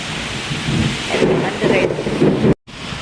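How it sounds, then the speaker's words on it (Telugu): Wind roars into the microphone over heavy rain in a loud, gusty storm, with a brief dropout near the end. "గాలి చాచి కొడుతుందా అన్నట్టుంది"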